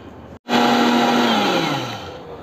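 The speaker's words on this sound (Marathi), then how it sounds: "तर आता मी मिक्सरला लावून घेते थोडं करून" A kitchen mixer grinder starts abruptly and whirs loudly as it grinds a small batch of crisp roasted homemade Malvani garam masala spices, its pitch sagging slightly as the load breaks down, with no talking.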